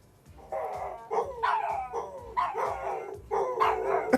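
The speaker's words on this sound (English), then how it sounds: "The dogs have been going crazy lately, but I also feel like they are syncing up in their barks." Several dogs bark together in repeated bursts, roughly one volley per second, their overlapping barks and howl-like yips forming a loud, close chorus with no talking.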